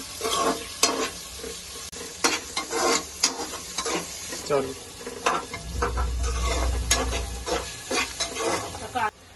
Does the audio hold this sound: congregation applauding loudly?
no